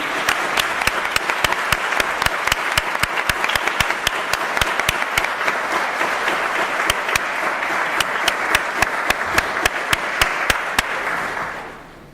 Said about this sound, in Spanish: capaz que estaría bueno recibirlo con un aplauso